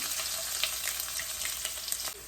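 Ginger sizzling and crackling in hot oil with mustard seeds in a pan, a dense steady frying hiss with small pops, close and moderately loud, no voices.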